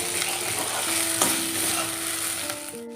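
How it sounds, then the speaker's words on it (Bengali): Ginger-garlic paste fries in a pan over a medium flame, a dense, steady hiss and sizzle filling the clip with occasional scraping strokes of a spatula, close and fairly loud, no voices. "ভালো করে ভেজে নেব আদা রসুনটা যাতে আদা রসুনের কাঁচা গন্ধটা না থাকে"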